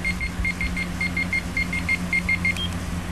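A Timex T035 alarm clock beeps its alarm in quick repeated double pulses, steady and clear over a low hum, then stops with a short click near the end.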